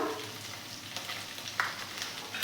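Ginger and garlic paste fries in a pan for a fish-head and pumpkin curry, giving a soft, steady sizzle close by with a few light stirring scrapes and no voices.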